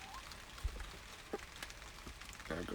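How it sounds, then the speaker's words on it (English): Light rain falling in a backyard garden where chickens are kept, a faint, soft patter with scattered drops and small taps over quiet ambience. "Can you guys all hear the rain?"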